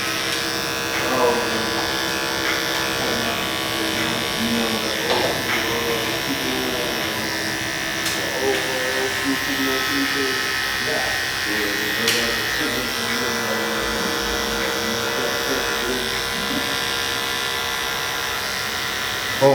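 Electric hair clippers fitted with a detachable OA blade cut a bald fade, giving a steady close buzzing drone throughout while someone talks over it.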